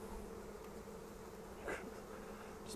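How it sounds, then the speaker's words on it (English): A dense, steady buzz of many calm honey bees being poured from hand to hand up close in a backyard hive, with a few brief louder swells as they move. "Just pour a pile of bees from one hand to the other."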